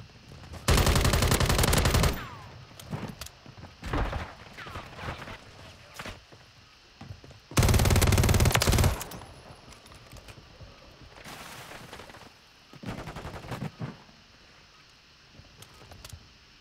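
Bursts of rapid automatic gunfire from a Call of Duty match, two long loud volleys plus several shorter shots and scattered pops across the stretch, with a voice talking faintly underneath.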